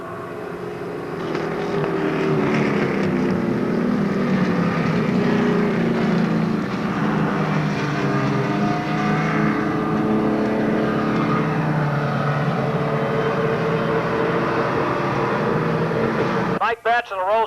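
Stock race cars circle Monadnock Speedway, a steady engine roar that holds loud and continuous throughout as an announcer talks over the track noise.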